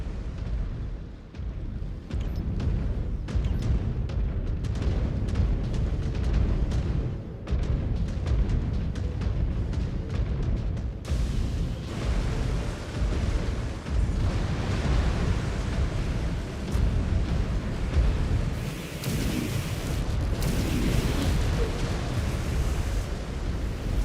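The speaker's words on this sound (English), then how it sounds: "Reactor breach. Explosion imminent." A mech's reactor breach explosion in a game, a long dense rumbling roar with crackling bursts that stays loud and continuous, no voices over it.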